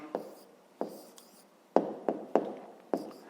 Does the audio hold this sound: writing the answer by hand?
yes